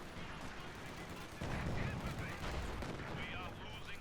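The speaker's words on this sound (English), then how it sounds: "support guns are opening fire on position" Support guns open fire in Company of Heroes 2: a continuous rumbling barrage with repeated booms that thickens partway through, set against distant battle noise and faint voices.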